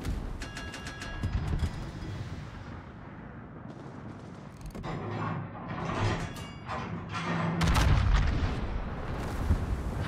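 In World of Warships, the heavy guns of a tier 9 HMS Lion battleship rumble in deep, booming salvos layered over constant battle noise and mechanical clatter, with the loudest thunder toward the end.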